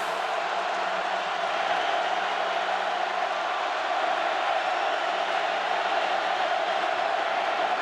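Steady broadband roar of a stadium crowd at an Ohio State home college football game against Iowa, a dense continuous wash of cheering holding level for the whole stretch with no distinct voices standing out.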